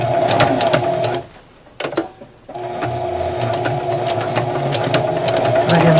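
A sewing machine stitching a ribbon garment bag runs with a steady mechanical whir, breaks off for about a second before restarting briefly, then resumes running continuously, close and loud.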